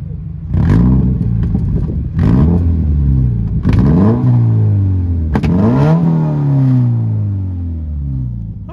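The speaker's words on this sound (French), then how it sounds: "Je vous fais écouter un petit peu le bruit de la voiture là" A Toyota GT86 with its 200 hp rear-wheel-drive engine and the rear silencer removed, otherwise stock exhaust, revs up sharply four times from idle, each close, loud blip rising and falling back with a raspy note, no talking.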